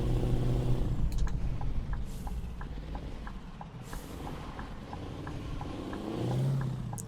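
A truck drives along a road in Euro Truck Simulator 2, a fairly quiet, steady engine rumble with a faint rhythmic ticking running over it and a brief swell of revving near the end.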